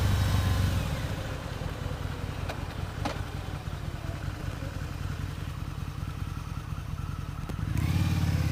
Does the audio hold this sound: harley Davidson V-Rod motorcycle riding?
yes